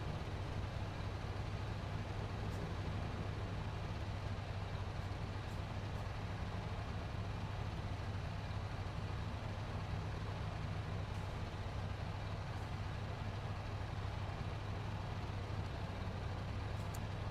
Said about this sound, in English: Two-stroke, oil slobbering, fuel drinking monster.